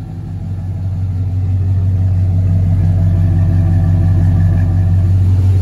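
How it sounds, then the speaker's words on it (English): Rebuilt Cadillac Escalade engine running steadily, a loud, close, continuous low rumble that swells slightly over the first seconds and holds a smooth idle, with no voices. "That's not what you expect a Cadillac to sound like, is it?"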